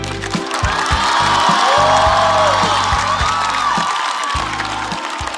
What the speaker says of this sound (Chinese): 次把热烈的掌声送给主咖李晓庆。